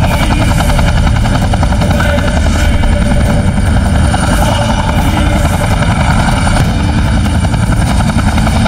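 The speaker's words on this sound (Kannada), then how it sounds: "ಒಂದ್ಸಲ ನೋಡ್ರಿ ಈ ಹೆಲಿಕಾಪ್ಟರ್ ಬ್ರಿಟಿಷರ್ನ ಹೆಂಗ್ ಕೆಳಗಿಳಿಸಕತೈತಿ ಅಂತ" A helicopter in a movie scene, its rotor beating in a loud, continuous pulsing drone that dominates from start to finish with no voices.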